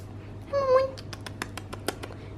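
A playful pet cat lets out a short, rising meow, then its quick light taps and scuffles patter nearby in a quiet room.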